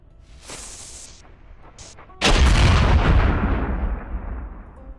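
Weapons fire at a suit of armor in the sandbox game Ylands: a few soft pops and whooshes, then a loud, close, heavy booming blast that rumbles and slowly fades.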